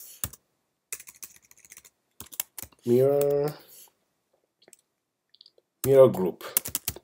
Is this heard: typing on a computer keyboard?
yes